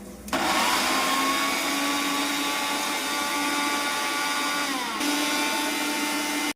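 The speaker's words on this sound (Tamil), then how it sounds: "பொடி ஆறிச்சு மிக்சி ஜாரில் போட்டு அடிச்சிடுவோம்" A kitchen mixer grinder jar whirs loudly, grinding roasted pori kadalai idli podi into powder; a steady high motor whine starts abruptly, runs for several seconds with a brief pitch dip, then cuts off.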